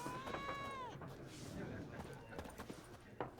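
Cat meowing in The Witcher 3: Wild Hunt, one near falling meow near the start, followed by hoof clip-clops and faint game sounds with someone talking.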